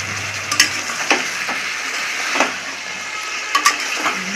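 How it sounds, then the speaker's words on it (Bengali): Fried pointed gourd pieces being stirred in a pan with spices and a little water, a soft steady sizzle broken by a few sharp scraping clicks of the spatula against the pan. "দিয়ে আমি দেখো কষছি এইভাবে।"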